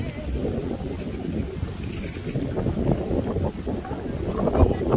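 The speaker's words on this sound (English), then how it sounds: "The wind is very strong, getting strong now, little by little" Strong gusty wind buffets the microphone at a busy outdoor flea market in Berlin's Tiergarten, a constant low rumbling roar that swells toward the end, with faint crowd murmur beneath.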